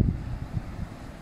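Strong sustained wind gusting through a cold garden, a short blast of low buffeting rumble against the microphone, pulsing in uneven surges.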